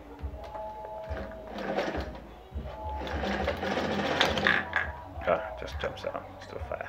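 An Alfa Alfamatic 103 sewing machine runs steadily for about seven seconds, its motor whirring and needle mechanism clattering close by, with brief pauses and speech-like sounds over it.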